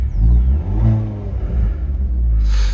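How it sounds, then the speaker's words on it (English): A 2021 Hyundai Veloster N in sport mode gives a deep, close exhaust rumble that swells and settles with light throttle, ending in a brief hissy burst. "Sport mode brings that exhaust note back."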